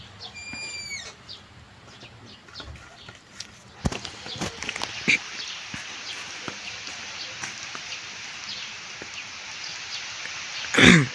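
Outdoor rain falls as a steady, faint hiss, with occasional knocks and louder bumps breaking through, including a burst near the end.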